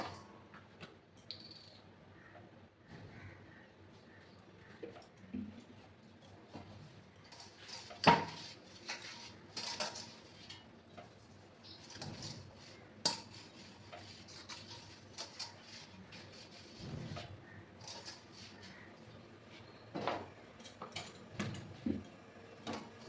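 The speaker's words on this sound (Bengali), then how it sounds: "এবার আমি একটা সসপ্যানের মধ্যে জল বসিয়েছি আর এরকম একটা থালা নিয়েছি ওটার মধ্যে আমি তেল লাগিয়ে নেবো" A saucepan and a metal plate are handled in a home kitchen while the plate is greased with oil, giving scattered light clinks, taps and scrapes at low level with brief louder knocks.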